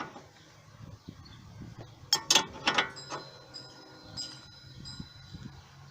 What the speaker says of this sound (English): The last thing we want to do is tighten up our little lock and nut here.